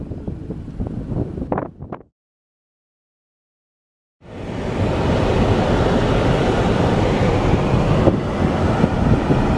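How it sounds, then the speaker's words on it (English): Wind gusting along the coast near Pedro Point on a smoky day, a loud, steady rushing roar buffeting the microphone, broken by about two seconds of silence before resuming. "Windy here, that's for sure."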